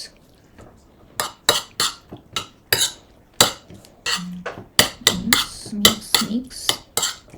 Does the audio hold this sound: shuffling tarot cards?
no